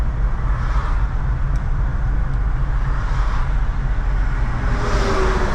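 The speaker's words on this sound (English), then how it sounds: "So I'm stuck in rush hour traffic on the 401 again." A car travels in slow rush hour traffic on the 401 highway, giving a steady engine and road drone from inside the cabin, with passing traffic swelling and fading. No voices.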